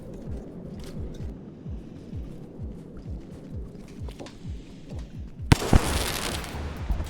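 Grenades explode in the video game Rain World as a rapid series of low, descending booms and pops, then a sharp burst of bright crackling blasts near the end, loud and busy with no voices.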